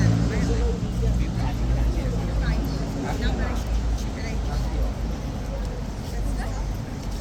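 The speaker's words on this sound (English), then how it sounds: "That noise behind us is a large tour bus with a school group on the top floor." Large double-decker tour bus carrying a school group rumbles past behind the Horse Guards in London, a steady low engine drone under someone speaking and general crowd chatter.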